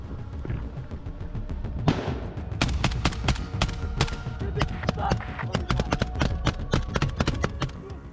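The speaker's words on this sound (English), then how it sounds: "intense fire was directed at the bunker" Intense gunfire is aimed at a bunker in a battle between Russian special forces and a Ukrainian unit, with rapid volleys of sharp shots cracking in dense bursts over a constant noisy background.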